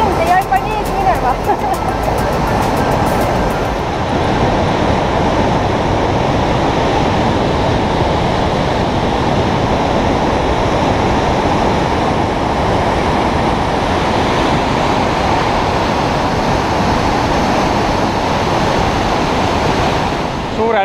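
Loud, constant roar of rushing river water near the Buarbreen glacier, a swollen torrent that has washed away a bridge, filling the scene close to the microphone for the whole stretch.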